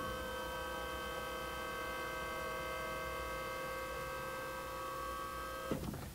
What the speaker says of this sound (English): This is going to be powered by a hydraulic pump that's custom fitted right into this vehicle for you.